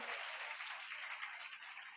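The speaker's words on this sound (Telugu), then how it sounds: "చప్పట్లు కొడుతూ దేవుని స్తుతించండి." A congregation at a church service claps together steadily in praise for two seconds. It is a dense, even wash of clapping, quiet and somewhat distant, with no voices.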